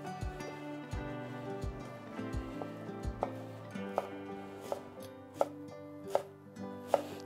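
Knife chopping food on a board at roughly 1 cm intervals, a steady series of sharp close taps that grow crisper and more distinct toward the end, with no talking.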